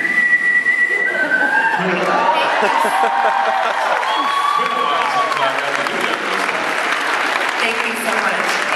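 A crowd claps and cheers while a person whistles a few sliding tones, with brief talk mixed in.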